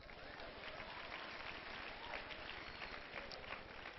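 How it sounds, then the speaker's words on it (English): Church congregation clapping during a sermon, a dense, continuous patter of many hands heard faintly and evenly throughout, with crowd murmur blended beneath and no single claps standing out. "Clap for Jesus."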